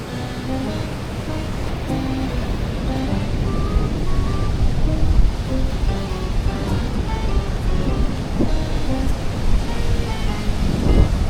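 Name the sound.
strong ocean waves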